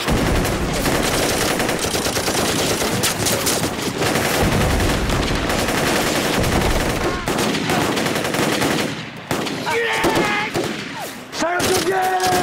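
Battle-scene gunfire in a Korean war drama, with dense bursts of machine gun and rifle fire cracking nonstop at close range, thinning out near the end where faint shouting voices come through.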